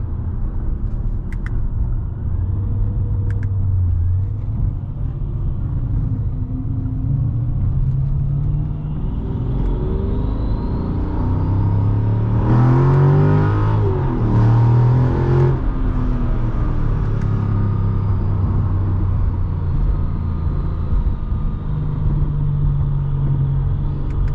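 A 2006 Mercedes-Benz E55 AMG W211 with its supercharged engine under load, a steady loud rumble that swells into a harder-revving burst midway, then settles back to a strong drone with no talk.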